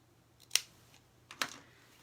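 Two crisp snips of sewing scissors clipping into a fabric seam allowance, close and separated by about a second of quiet.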